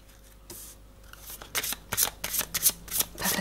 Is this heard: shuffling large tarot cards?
yes